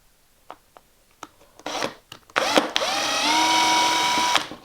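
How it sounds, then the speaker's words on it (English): A handheld drill bores small pilot holes while a Festool Sysport is being built, first a few light taps and short bursts, then a close, steady whine that rises in pitch as the bit spins up and cuts. "just drill a couple of small pilot holes."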